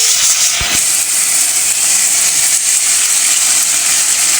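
Red lentils (masoor dal) fry in hot soybean oil in a pan, a loud, continuous close-up sizzle and hiss with a brief knock near the start and no talking.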